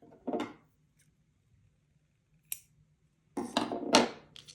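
Scissors cutting thick yarn during hand weaving: a few close, crisp snips separated by quiet pauses, with a quick double cut near the end.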